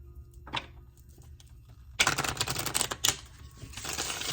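Crisp, rapid riffling of tarot cards, loud bursts of flicking and snapping after a few quiet taps, with no voices.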